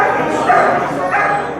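A dog bursts out in a few loud, close yelps and whimpering barks during an attack on a prisoner, with voices tangled in the noise.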